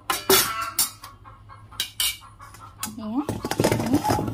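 A metal saucepan of water knocks and clatters onto a gas stove in a home kitchen, several sharp clanks followed by a steady hiss of the burner.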